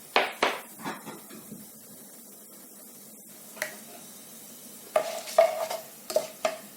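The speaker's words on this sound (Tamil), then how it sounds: "இதில் வந்து நான் ஸ்பைசஸ் ஆட் பண்ணுறேன். கொஞ்சம் ரோஸ்ட் ஆகட்டும்." Spices roast in smoking-hot oil for tomato rice, with a light sizzle broken by sharp clinks and scrapes of a utensil stirring against the pan in irregular bursts.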